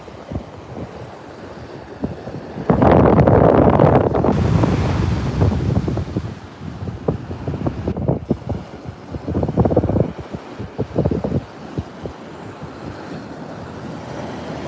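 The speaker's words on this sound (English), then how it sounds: "and then the wind picks up" Strong gusts of wind buffet the microphone at Virginia Beach, roaring loudly in bursts over a faint wash of surf, easing and returning several times.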